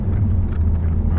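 A car with a double clutch transmission accelerates briskly in fourth gear, a low, steady engine drone and road rumble heard from inside the cabin, continuous and fairly loud.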